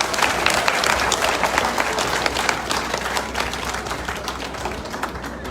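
A large crowd at an Ivorian political rally claps and applauds for the Front populaire ivoirien, dense steady clapping that holds strong and fades slightly toward the end.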